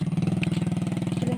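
A motorcycle engine idles close by with a steady, rapid low throb, its pulses evenly spaced and unchanging throughout the short stretch.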